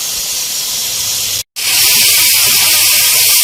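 Onions frying in a pan, a loud continuous hissing sizzle that drops out for an instant and then resumes at the same strength.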